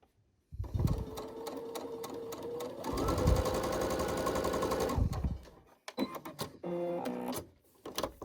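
A domestic sewing machine stitching a fabric facemask: quick runs of rapid needle chatter, one long steady burst in the middle, then short stop-start stitching bursts, fairly quiet and close.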